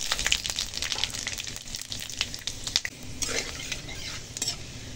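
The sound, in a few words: tempering spices (panch phoron, bay leaf, chilli) frying in oil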